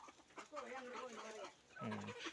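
Free-range country chickens, including a white breeding rooster, give faint drawn-out calls and clucks, a couple of tonal calls rising clearly above quiet background.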